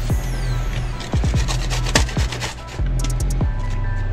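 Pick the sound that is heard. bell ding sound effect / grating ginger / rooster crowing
grating ginger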